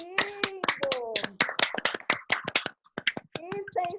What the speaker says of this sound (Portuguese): pode abrir os microfones para a gente aplaudir, por favor